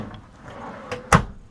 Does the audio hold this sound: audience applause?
no